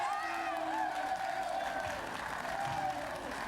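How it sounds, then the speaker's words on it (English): A talk-show studio audience breaks into sustained applause and cheering with a few raised voices rising over the clapping, heard at a steady moderate level throughout. "Let's hear applause."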